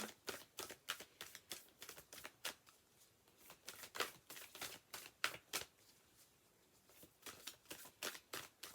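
Oracle cards being shuffled by hand, a close, quiet run of rapid riffling bursts repeating in a steady rhythm with short pauses between, no talk.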